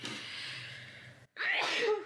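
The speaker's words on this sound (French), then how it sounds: "Je vais éternuer." A sharp, breathy sneeze bursts out after a brief pause, loud and close, following a stretch of quiet background hiss.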